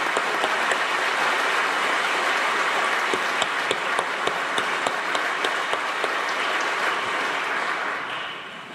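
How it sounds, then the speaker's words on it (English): A seated audience applauds Father Vincent Lampert, an exorcist giving a talk, with steady, dense clapping throughout, thinning and fading out near the end. "Let's give a round of applause"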